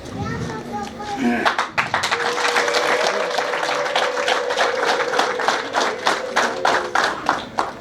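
An audience at a Rwandan family engagement ceremony bursts into steady applause, with high trilling ululation and children's voices mixed in, loud and sustained after a brief opening of talk.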